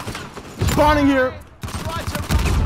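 Gunfire in the video game Uncharted 4, with a sharp burst of shots and rattling fire mixed with a brief voice, close and loud over a short span.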